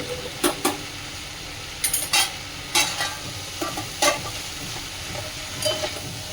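Cabbage stirred in a pan: repeated scraping and clinking strokes in irregular clusters over a quiet, constant sizzle, heard up close.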